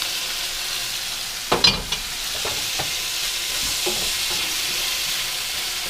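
Chicken fries in hot oil with a constant bright sizzle, and a few clattering stirs and scrapes of a utensil in the pan early on, close up with no talk.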